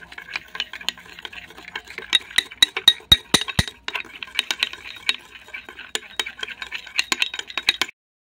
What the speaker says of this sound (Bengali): এরপর ভালো করে মিশিয়ে নিতে হবে।